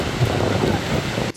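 Typhoon Khanun's stormy wind and heavy rain lash a street near Taipei Station. A dense, steady roar of gusting wind and downpour fills the short stretch and cuts off abruptly at the end.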